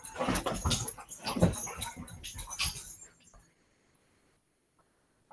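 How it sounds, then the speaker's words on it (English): Several dogs move around indoors, rattling and clattering in a busy burst of close scuffling for about three seconds before the room falls quiet, with some talking mixed in. "you can hear my dogs rattling"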